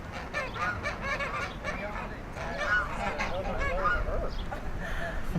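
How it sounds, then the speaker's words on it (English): Loud, overlapping honking from a flock of geese, continuous and nearby, with a person speaking in the background. "Oh, those are some loud birds."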